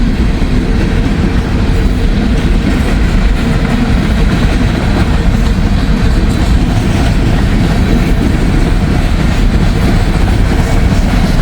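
A mixed manifest freight train rolls past close by, with a loud, steady rumble of heavy cars and rhythmic clickety-clack of wheels over rail joints that carries on throughout without letup.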